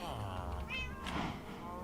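A cat in the video game Minecraft meows, a short, soft mew heard faintly over steady background noise.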